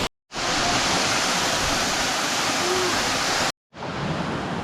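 Caledonia Waterfall in the Troodos mountains of Cyprus, a loud, steady broadband roar of falling water filling the whole clip, interrupted only by brief silent cuts at the start and near the end.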